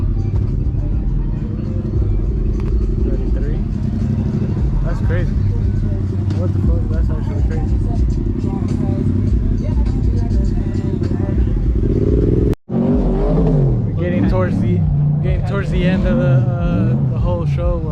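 Car engines revving and rumbling at a car show donut pit, a loud continuous roar with rising revs and tire-spinning noise, people talking over it throughout.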